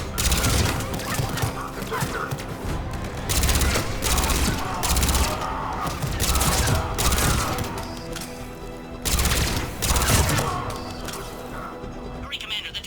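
Cerberus troops firing on a checkpoint in Mass Effect 3: loud, sustained bursts of automatic gunfire come in repeated waves, with cracks and impacts layered over a dense battle din.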